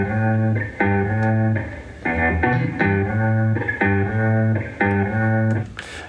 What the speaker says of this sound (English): And then we put some reverb on it, and this is how it sounds